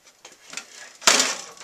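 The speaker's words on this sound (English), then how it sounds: "The front of the case removes." The plastic front case panel of an SGI Octane computer comes off, with a few light clicks and scrapes followed by a sharper plastic clack and rattle, close by.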